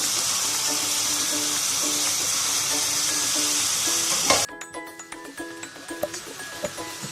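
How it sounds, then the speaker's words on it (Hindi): Tomatoes hitting a hot pan of lightly browned onion, ginger and garlic with garam masala give a loud, steady broadband sizzle for about four seconds, then it drops to quieter, uneven crackling and spattering. "टमाटर डाल लेते हैं।"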